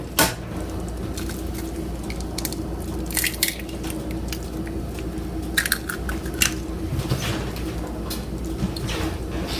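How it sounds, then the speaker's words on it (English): Four eggs cracked one after another into a pan of simmering shakshouka, with sharp shell taps and clicks over a low steady simmer, close by. "I'm just going to carefully crack 4 eggs in here"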